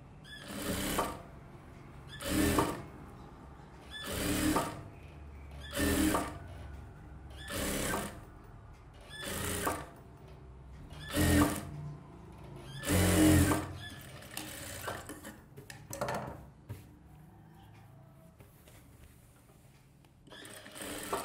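Sewing machine stitching a silk skirt for a one-year-old baby, heard in repeated short bursts of rapid mechanical whirring separated by quiet pauses, close and alone.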